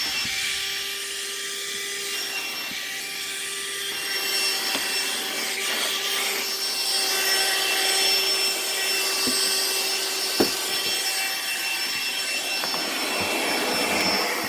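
An AstroAI portable car vacuum runs continuously inside a motorhome, a steady high-pitched whirring motor drone with shifting suction tone as the nozzle moves, close and fairly loud, with a couple of small knocks.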